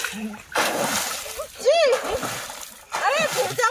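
A girl stepping into water makes bursts of splashing and sloshing close by, interrupted by a brief pause, while children's voices shout and squeal over the water.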